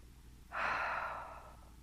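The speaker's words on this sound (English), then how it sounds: "Take a deep breath." A single deep breath drawn close and softly, a long airy inhale that swells quickly and then tapers off in a quiet room.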